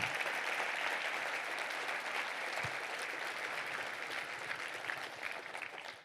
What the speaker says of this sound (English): how about a round of applause for all our sponsors, the team at EDCO, and Margot Downs.